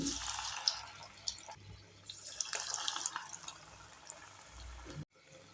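Rava vada, a semolina and curd fritter, frying in hot oil with a steady, fairly quiet crackling hiss, broken by brief louder spatters and a few drips, then stopping abruptly near the end.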